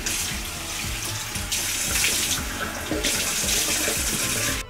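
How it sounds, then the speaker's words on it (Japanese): Tap water runs into a sink nearby for face washing, a steady close splashing stream that swells and thins as hands move under it, with no talking. "とりあえずちょっと顔洗います。"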